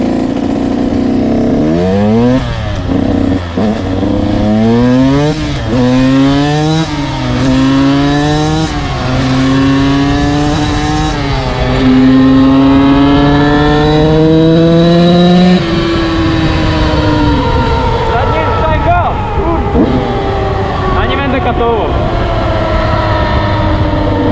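A KTM SX 85 dirt bike engine revs loudly and repeatedly, its pitch climbing and dropping with each throttle blip, then settles into a rough, steady roar, very close.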